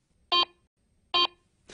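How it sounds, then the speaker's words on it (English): Two short, lower-pitched beeps from a Garrett Euro Ace metal detector passing over an iron target, evenly spaced and close, with a third beep just beginning as the sound cuts off. "Ferrous targets, such as iron and nails, usually produce a low-pitched audio signal."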